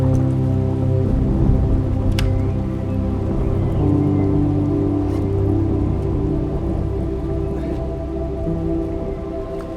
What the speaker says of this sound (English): First bit of rain. You can hear it coming through the trees here.